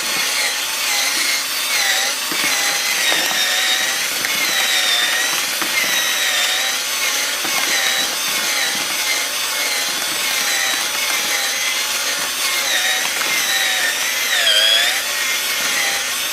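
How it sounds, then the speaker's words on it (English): Drill stirrer churning a homemade refractory mix for a coffee-can mini foundry furnace, a steady, continuous gritty scraping and whirring with slight wavering in pitch, close and loud throughout with no talking. "I'm going to go at it with the drill stirrer, because this needs to be mixed in fully and evenly"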